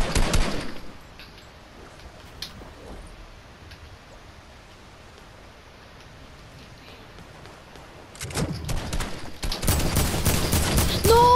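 Gunfire in Fortnite, a brief burst of shots at the start, then a quiet stretch, then loud sustained rapid firing building over the last few seconds, close and without talk.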